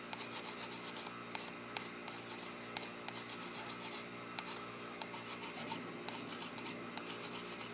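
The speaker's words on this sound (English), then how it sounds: "I'm going to just get a little more scraping in on that one side." Small pen knife scraping a new woodwind reed on one side, a steady close rasping rub with short repeated strokes and a few sharper scratches, no talk.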